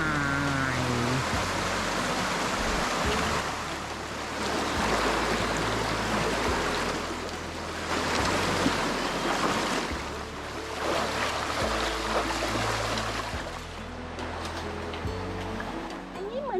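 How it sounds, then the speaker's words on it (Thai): Water from a waterfall and a clear forest stream rushes continuously, a steady broadband wash that swells and eases slightly, with low background sounds underneath and no clear talk. "ลองเดินล็อกไปตาม น้ำตกเรื่อยๆ สวยดี น้ำใสแจ๋วเลยนะพ่อเนาะ"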